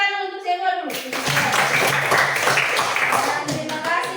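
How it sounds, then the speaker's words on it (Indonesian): Classmates in a school lesson burst into a room full of children's clapping, a dense, steady patter of many small hands that starts after a brief sung or spoken phrase and carries on for several seconds. "Tepuk tangan untuk semua dulu"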